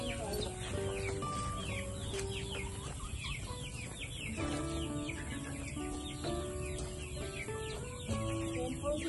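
Free-range Rhode Island Red chicks clucking and peeping in a busy, overlapping chorus close by, with a rooster-like call among them and a steady background hum.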